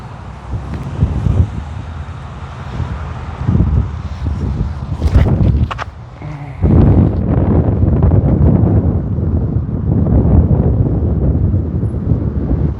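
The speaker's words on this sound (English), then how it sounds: "Lots of wind going a lot of different directions." Gusty wind on an open disc golf course in Shelton, Washington, roaring steadily across the microphone with brief lulls and a stronger sustained push in the later half, no talk heard.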